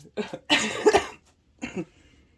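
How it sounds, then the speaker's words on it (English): Several harsh coughs from one person, a short cough, then a longer burst of two or three, then a final single cough after a pause, close and fairly loud with no talk. "I had my first little cough there"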